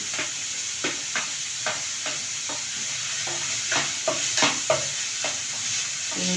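Green chilli and grated ginger fry in a pan under a constant bright sizzle, punctuated by regular scraping strokes of a spoon stirring the mixture, close and fairly loud.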